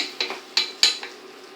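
A utensil scrapes and knocks against a pan while stirring stuffed courgette filling with tomato and feta, giving several sharp metallic clinks spaced irregularly over a quiet background.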